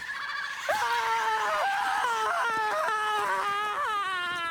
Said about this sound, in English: We've heard this guy scream like 3 times in this stream now.